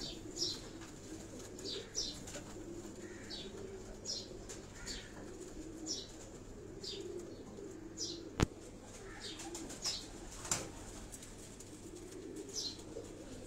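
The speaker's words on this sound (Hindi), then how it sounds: "हाई फ्लाइंग पिजन उड़ने वाले जो उनके कबूतर हैं" Flock of high-flying pigeons on a rooftop in Karachi Defence, giving soft repeated cooing and chirps at a steady pace under a constant low background hum, with a couple of sharp clicks.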